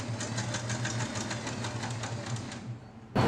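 An electric sewing machine runs steadily while stitching a churidar neck, its needle chattering in a fast, even rhythm for a few seconds before stopping with a knock.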